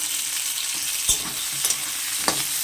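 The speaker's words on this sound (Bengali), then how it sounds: "মাংসের আলু আর পেঁয়াজ ভেজে নিচ্ছি" Potatoes and onions frying in a pan give a steady, close hiss of sizzling oil, broken by a few brief scraping stirs and light knocks.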